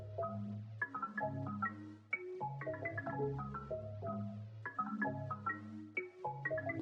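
A one-shot melodic sample played in FL Studio, a quiet looping phrase of tonal notes with a bass line, repeating for several seconds without voices.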